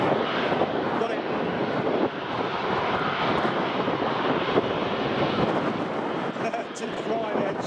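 Airbus A330 engines at Manchester Airport roar steadily as a broad, continuous rumble at moderate distance, with no distinct breaks over several seconds.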